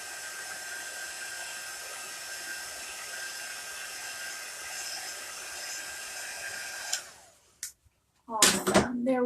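Heat tool blowing a steady, fairly loud whoosh to dry chalk paste on a craft project, running continuously for about seven seconds before cutting off, followed by brief clattering handling sounds.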